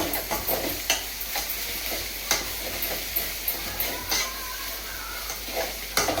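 Liver pieces fry in a pan with onions, green chillies and ginger-garlic paste, making a loud, continuous sizzle and hiss. Frequent sharp crackles and stirring scrapes are heard throughout, with no voices.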